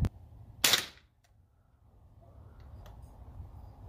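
A single sharp shot from an American Classic airgun snaps out near the start, with a brief click just before it, then quiet low rumble and faint noise.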